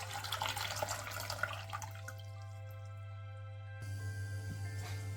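Water runs into a pot in a home kitchen, a faint splashing trickle that tapers off and leaves quiet dripping behind.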